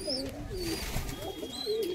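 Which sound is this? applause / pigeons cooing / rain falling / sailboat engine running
pigeons cooing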